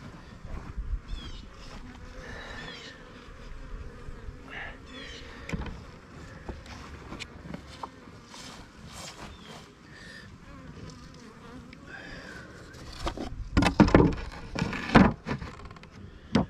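A dense swarm of honeybees drones continuously around an opened wooden beehive during an outdoor hive inspection, a close, steady buzzing hum with scattered handling knocks that grows louder and busier toward the end.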